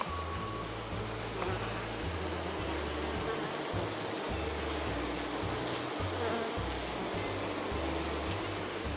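Honeybees buzz continuously around a hive, a dense steady hum with no talking and a few closer insects passing by now and then.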